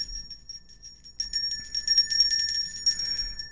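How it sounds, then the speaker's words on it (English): A small handheld bell rung several times in quick succession, bright metallic tinkling up close that rings out and fades, with no talking. "Let me ring your bell here."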